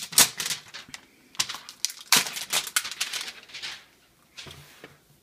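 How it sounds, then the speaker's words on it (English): Plastic wrapping crinkles and crackles as a 2013 Nexus 7 tablet is pulled free, in a few close bursts of rustling with short pauses between them. "Let's pull this out of the plastic here."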